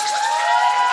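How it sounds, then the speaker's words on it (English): A live studio audience cheers and applauds T-Mac during a 100th-episode show, a dense, steady wash of clapping and whooping voices filling the whole second. "I want to give her a round of applause"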